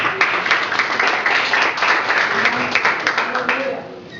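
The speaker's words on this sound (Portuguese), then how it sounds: "As palmas foram para mim, né?" Church congregation applauding during a Sunday service, a dense steady wash of many hands clapping throughout, moderately loud and fairly close, with some voices mixed in.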